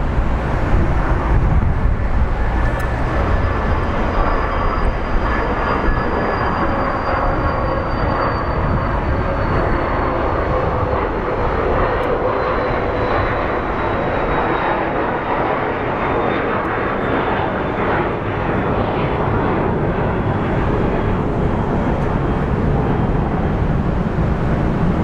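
An American Airlines jet roars at Phoenix Sky Harbor International Airport, a loud, steady engine rumble with a whining tone that slowly falls in pitch as the aircraft moves, heard alone without talk throughout.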